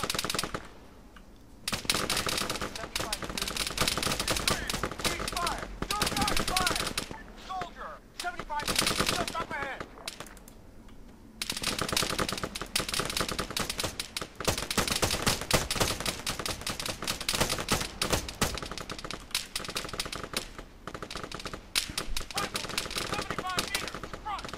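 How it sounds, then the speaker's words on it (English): Dense gunfire fills an Arma 3 town assault, with rapid machine-gun bursts and volleys of shots. The shooting runs almost continuously, with a couple of brief lulls, and a player speaks faintly under it. "Ooh, gunshots already."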